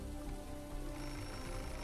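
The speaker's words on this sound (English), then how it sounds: "Oh god, the phone's ringing." A telephone ringing in the video game Beholder, a steady electronic ring tone held over a dense background of rain-like noise, alone without voices.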